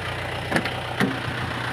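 An Isuzu Buddy with its original engine idles with a low, steady rumble, and two short sharp clicks cut in near the middle.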